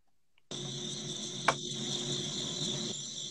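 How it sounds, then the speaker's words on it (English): Crickets chirp in a steady, continuous high drone that starts suddenly and holds at a moderate level, with one brief sharp click partway through. "we got to work with cricket because it sounds a little bit like a shower"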